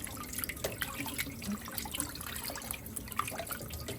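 Beef pieces rinsed in water to wash off blood, with faint splashing, trickling and sloshing in a kitchen, quiet and close, without talk.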